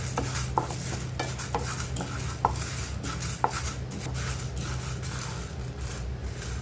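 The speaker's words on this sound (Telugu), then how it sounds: "ఇది ఒకసారి ఇలా లో ఫ్లేమ్ మీద పెట్టుకుని వేపుకోవాలి" Dry toor dal roasting in a pan over a low flame, with repeated metallic scrapes and taps of a spoon stirring against the pan, close and steady, a few sharper clinks standing out, no voice.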